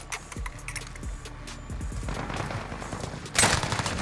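Gunfire and rapid automatic bursts in Call of Duty: Modern Warfare, ringing out amid game ambience with a louder volley near the end.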